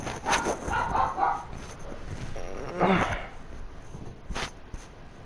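A dog in a house barks in a few short bursts, with yips and a whimper between them, while people talk over it in between.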